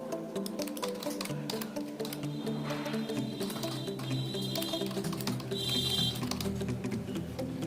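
Typing on a computer keyboard, with steady, quick, light key clicks running continuously throughout against a faint background hum.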